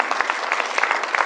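Audience applause after a product presentation of El Marino Blanc, a brief burst of dense clapping from a nearby crowd, steady and fairly loud throughout.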